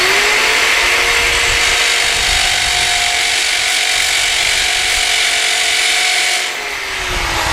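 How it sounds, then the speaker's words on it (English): A loud, steady half-inch hammer drill with a quarter-inch masonry bit grinding into mortar for several seconds, with a constant high whine that eases off right at the end. "we're using a 1/2-inch hammer drill to get through that mortar"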